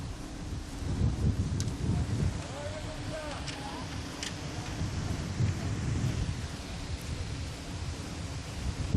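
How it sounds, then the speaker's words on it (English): Wind picking up at an outdoor high diving competition venue, a steady broad rushing gust with low rumbling buffeting on the microphone, continuous throughout with faint crowd ambience. "See the wind has picked up slightly here, a bit of a breeze."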